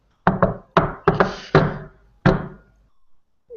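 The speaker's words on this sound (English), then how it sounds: "will slowly knock on the door" Several knocks land on a door in irregular groups, close and resonant, with woody thuds ringing briefly before a final knock after a pause.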